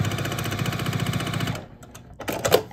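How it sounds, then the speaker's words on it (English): A sewing machine stitching quilt block seams, a rapid even mechanical chatter running for about a second and a half, then stopping, followed by a few brief clicks and handling noises. "we're just going to sew these 2 seams together"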